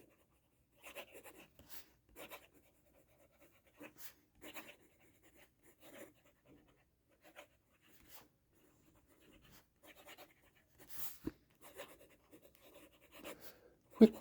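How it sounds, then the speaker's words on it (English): A pen writes on smooth Leuchtturm 1917 Master Slim A4+ notebook paper. Soft, scratchy strokes come in short, irregular bursts separated by near silence, and the whole passage stays close and quiet. "I'm going to just do a quick writing sample."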